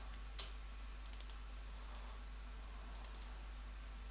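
Keys clatter on a computer keyboard as a folder path is typed, a few quick clustered clicks, faint and close over a steady low hum, with no talk.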